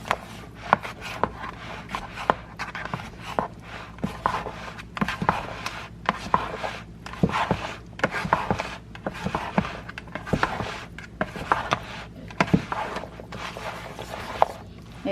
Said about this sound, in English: wooden spoon or wooden spatula thing that you had and just mix it all together now